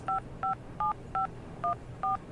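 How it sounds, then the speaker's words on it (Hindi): Six short two-tone telephone keypad beeps, evenly spaced, clear over a faint low background hum. "मैंने सुहानी को फोन मिलाया।"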